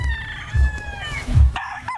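A rooster crows nearby, a loud drawn-out cock-a-doodle-doo with a few low clucks around it, ending abruptly.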